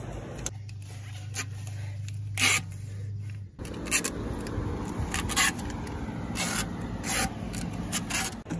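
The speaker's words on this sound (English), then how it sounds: "I'm just gonna put a bunch of tape on the inside" Strips of tape being pulled off the roll and pressed onto the inside of a bucket, heard as repeated ripping, rubbing tearing sounds close up, steady and fairly loud throughout, with no voices.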